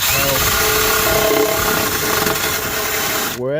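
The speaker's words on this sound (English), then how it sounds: "took this wire wheel on the drill, put it in, pushed, pause, and I just put a lot of pressure" A wire wheel spun by a drill and pressed hard against old seam sealer in a Honda CRX engine bay, a loud, continuous abrasive whirr with gritty scraping that runs steadily before spinning down at the end.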